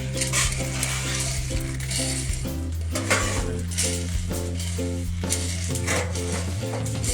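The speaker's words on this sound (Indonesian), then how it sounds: "itu alat untuk ini menggoreng kopinya pemirsa" Robusta coffee beans tossed and stirred in a pan during roasting give a steady, continuous scraping and rattling clatter, loud and up close throughout, with no talk over it.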